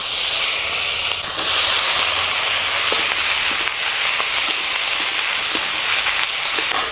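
Potato and eggplant pieces hiss loudly in hot oil in a wok, a dense steady steam-like sizzle with occasional soft knocks of a spatula.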